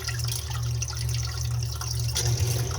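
A sump pump runs in its pit as water rises, producing a steady low motor hum beneath constant rushing and trickling water, close by and continuous.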